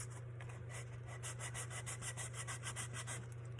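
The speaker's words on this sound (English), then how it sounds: "So you want to scuff this up coming in from different angles." Abrasive scuffing on a painted tumbler during distressing, a steady stream of quick rhythmic rubbing strokes, close and moderately loud over a constant low hum, with no talking.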